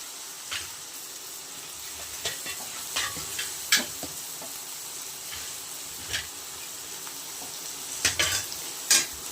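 Thinly sliced tomato pieces frying in a pan with turmeric for a country chicken curry, a soft continuous sizzle broken by scattered spoon taps and sharper crackles, close by with no voices.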